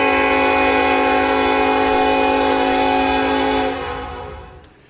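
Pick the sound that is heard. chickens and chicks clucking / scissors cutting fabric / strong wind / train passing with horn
train passing with horn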